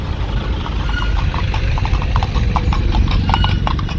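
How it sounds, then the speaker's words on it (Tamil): Horses' hooves clip-clop on a road in Kodaikanal at night, a close, loud and steady run of sharp hoofbeats over a low background hum. "குதிரையை பாருங்க."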